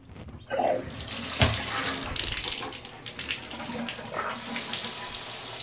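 Slightly warm tap water runs and splashes as a computer keyboard is washed under it, a continuous close hiss with brief louder splashes.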